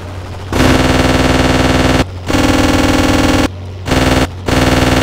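Aircraft gunner firing in the video game Aces High 2, long loud bursts of rapid machine-gun fire broken by a few short pauses, close and dominant.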